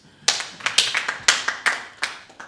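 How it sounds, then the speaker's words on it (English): A handful of crisp, separate hand claps ring out at a student general council session, about seven sharp claps spread unevenly over a couple of seconds, fairly close, with no talking. "let's give the latter speaker a round of applause"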